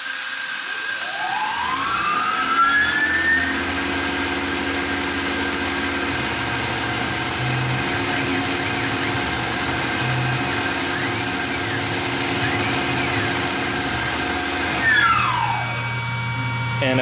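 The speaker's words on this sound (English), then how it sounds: "for the ultimate luxury, I come in with a little chamfer tool." Small chamfer tool on a rotary machine putting a tiny chamfer on both sides of steel knife pivots: a continuous high-pitched whine that spins up, holds steadily for about twelve seconds with faint cutting variation, then winds down.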